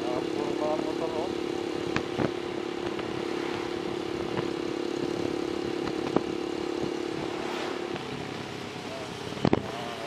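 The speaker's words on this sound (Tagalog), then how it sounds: "Puro mga motor oh." Motorcycles on a bypass road in Candelaria, a steady engine drone with a passing vehicle rumble throughout, heard from nearby with occasional knocks and wind noise.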